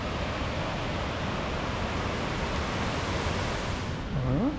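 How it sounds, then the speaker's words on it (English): River Tees rushing over rocks in Upper Teesdale, a steady broadband roar of flowing water, fairly close and even, with a brief rising whistle-like tone near the end. "The river's getting a little bit more wilder the further we head upstream."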